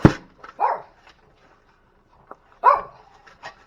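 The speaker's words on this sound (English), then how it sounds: "The joys of having a tiny dog." A tiny dog barks in a home kitchen, a few sharp, loud, close yaps separated by short silences, with faint household clatter between them.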